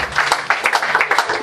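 A church congregation claps and cheers in acclamation during a worship service, a dense, loud burst of applause filling the space close by.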